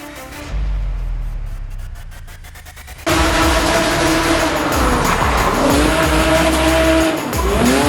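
An Infernus drift car at a drift event idles low, then bursts into a loud, sustained engine roar with screeching tires as it slides, close and continuous.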